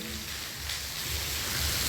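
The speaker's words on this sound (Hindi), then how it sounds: "कितनी तकड़ी दबका बारिश पड़ रही है" Rain pours steadily in a constant broad hiss, with a low rumble underneath and no one speaking.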